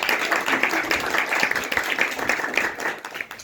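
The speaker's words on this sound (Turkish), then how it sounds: "Tekrar yüksek bir alkış." A small group of tourists claps in a dense, steady round during a hands-on art demonstration in Cappadocia, the applause close and sustained throughout.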